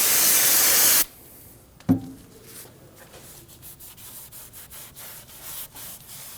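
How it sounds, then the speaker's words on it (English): Brake cleaner sprayed in a loud hissing burst onto the bottom of a Honda Pilot front strut, cut off abruptly, then a short knock and soft rhythmic rag wiping strokes. "I'm just going to use some brake clean and a rag."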